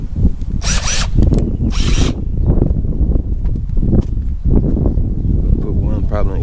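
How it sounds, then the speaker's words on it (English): Two short bursts of a power drill whir in quick succession, loud and close, drilling pilot holes in a Chevy Caprice roof for a sunroof, amid rustling and handling noise. "we'll go over here and drill about 4 pilot holes"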